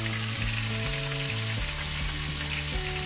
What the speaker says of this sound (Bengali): এটাকে আমি ভালো করে ভেজে নেবো কিছুক্ষণ